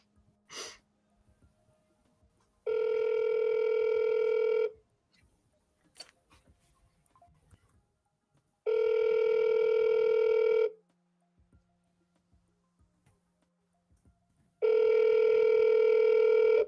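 An outgoing telephone call rings three times, each long, steady tone lasting about two seconds, separated by pauses of several seconds that hold faint clicks and ticks.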